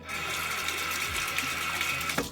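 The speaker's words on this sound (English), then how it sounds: "Wash out my toothbrush." Tap water runs steadily as a toothbrush is rinsed after cleaning a reborn doll, a continuous close splashing stream with slight shifts in flow.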